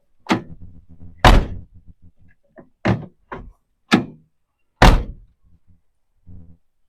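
The door of a 1953 Chrysler New Yorker is shut several times, giving a series of solid, heavy thunks. Each close is sharp and near, separated by brief pauses and faint rattles, with one last softer close at the end.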